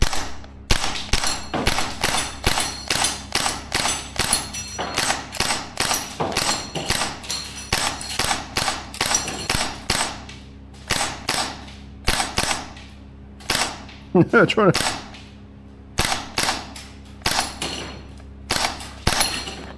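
A Maruyama SPC-9 gas blowback airsoft rifle fires a long run of sharp, closely spaced cracks, mostly in rapid bursts with brief pauses, loud and near, each shot carrying a metallic bolt clack.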